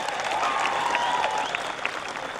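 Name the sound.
crowd clapping at a speech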